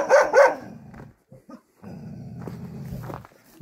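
A dog gives two sharp, loud barks close by, followed by short quieter yips and then a low, steady growl that runs on through the second half.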